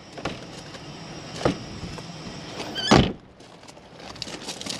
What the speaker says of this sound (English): So all you need to do is lock the vehicle, unlock it.